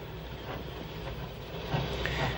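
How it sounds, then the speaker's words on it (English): J15 steam locomotive, a class first built in the 1860s, moving slowly around a station yard in Ireland, heard as a steady low rumble and clatter of rolling stock at moderate distance with no speech. "J15, one of Ireland's most numerous class of steam locomotives, whose first members were built in the 1860s, potters around the yard in the station"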